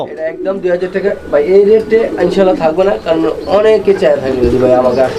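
A pair of coloured Lakha pigeons coo softly in short repeated calls, nearly covered by close, continuous talking from people at a pigeon sale.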